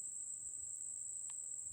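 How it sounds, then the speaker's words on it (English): Insects, probably crickets, keep up a constant high-pitched chirping drone in the background. It stays faint but unbroken throughout, with no talk over it. "can you hear it? It's like a constant cricket-like sound."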